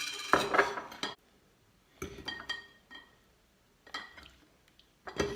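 Mixed kebab ingredients dropped into glass jars, several separate clattering bursts of glass and utensil clinks with quiet pauses between them.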